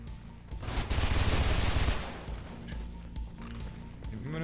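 Gunfire in the video game Mirror's Edge, a loud burst of rapid shots and crashing impacts in the first two seconds, then fading into lighter game noise.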